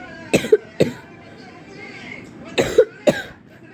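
A person coughs in close, harsh bursts: two quick coughs, a pause, then two more, loud and near.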